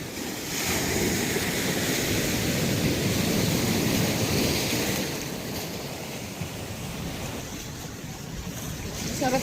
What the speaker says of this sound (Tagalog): rinig na rinig talaga yung waves ng ocean sa gabi